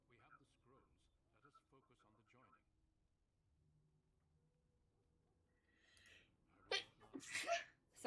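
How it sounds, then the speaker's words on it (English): One sharp, loud sneeze from a character near the end of a fantasy role-playing game scene, after quiet speech and a faint low hum. "Sneeze."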